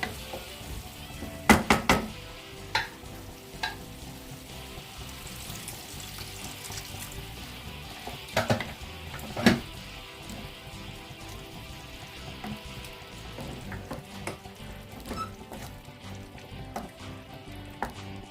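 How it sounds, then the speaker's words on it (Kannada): Bitter gourd gravy with tamarind juice simmers in a pot, giving a steady soft bubbling, watery wash with a few sharp clinks and knocks of utensils near the start and middle, all close and moderately quiet. "ಚೆನ್ನಾಗಿ ಕುದೀತಾ ಇದೆ"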